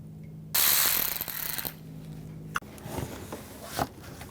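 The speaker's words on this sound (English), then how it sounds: "Use a T25 socket just to get the screws out." T25 socket ratchet working radiator screws out on a VW GTI 2.0 L4, with bursts of rapid clicking close up, a sharp knock, and further short ratcheting.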